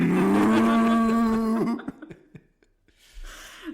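A human voice imitates a cow with a long, low, droning moo that slides slightly in pitch before trailing off into faint breaths and small noises.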